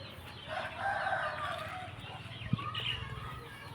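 Chickens cluck and a rooster crows in a farm yard where fighting-cock chicks are kept, with someone talking over the bird calls.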